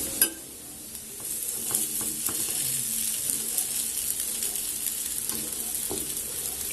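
A burger patty fries in a pan with a steady, close sizzle, broken by scattered clinks and scrapes of a utensil against the pan.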